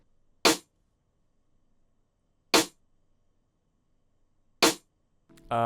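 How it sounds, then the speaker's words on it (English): Three sharp, dry snare hits land about two seconds apart in near silence, followed by the start of another sound at the end. "step 1, guys, is a snare pattern that's gonna sound like this"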